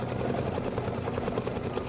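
An embroidery machine stitches the fill of a keychain body in a steady, rapid mechanical rhythm, close and continuous throughout.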